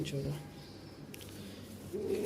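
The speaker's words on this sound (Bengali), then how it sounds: "মাসাল্লাহ খুব সুন্দর সুন্দর কবুতর আছে" Pigeons at a pigeon market coo softly in low, throaty bursts at the start and again near the end, heard close by under a voice speaking.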